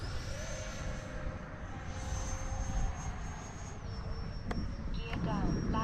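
An FMS Futura V3 RC model jet on a 6S setup whines past at a distance, its ducted-fan pitch shifting steadily as it flies, with radio-style voice callouts partly overlapping.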